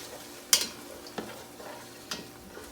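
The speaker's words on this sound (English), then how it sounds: "Once the water is gone and you hear a sizzle, that means your onions have cooked enough." Onions cook in a pan as the water boils off, giving a soft steady sizzle broken by a few sharp clicks and taps from stirring, close and fairly quiet.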